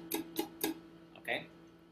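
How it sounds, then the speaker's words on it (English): Muted guitar strings strummed with the fretting fingers resting lightly on them, three short percussive chucks in a quick rhythm, faint and close, followed by a brief scrape and some low background sound. "I keep my fingers on the strings without pressing them, so that it sounds like this, muted."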